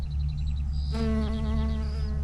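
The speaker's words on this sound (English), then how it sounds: "look at this sweet little bee" A tiny bumblebee buzzes close by at a geranium in a large rose garden, a steady droning hum that shifts pitch as it moves among the flowers, heard alone without talk.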